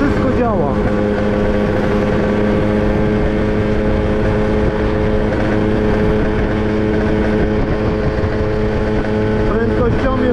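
Italjet Dragster scooter from 2000 with a two-stroke engine, running steadily while being ridden, a loud continuous buzzing drone throughout with slight pitch shifts and voices talking over it.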